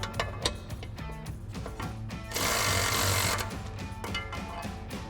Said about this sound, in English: We'll come back and tighten down our bottom bolt.